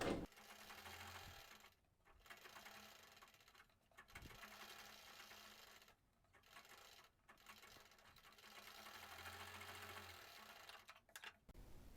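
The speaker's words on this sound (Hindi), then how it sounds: "तो ऊपर से पहले एक सिलाई लगा देते हैं।" An electric sewing machine stitches a sleeveless blouse in bursts of steady mechanical whirring, several runs separated by brief pauses, close and fairly quiet, with no talk over it.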